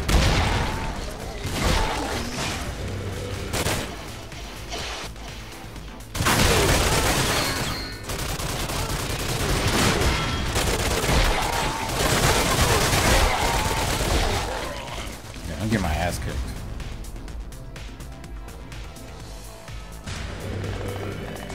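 Gunfire in the video game Crash Commando, with dense, continuous bursts of shooting and explosions blending into loud game action throughout.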